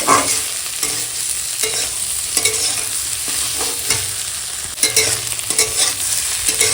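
Cauliflower, carrot and spring onion fry with whole cumin in a pan, a loud close sizzle broken by repeated scraping strokes of a spatula at a regular pace, with no talking.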